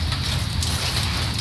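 Heavy rain falls on a farm during a typhoon as a dense, steady roar of drops hitting surfaces close by, continuous throughout with no break.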